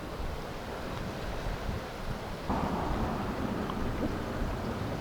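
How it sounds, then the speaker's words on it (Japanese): Rain beginning to fall outdoors on a southern island, a steady dense rushing wash that thickens partway through, with low rumbling underneath; no voices. "やばい、雨降ってきた"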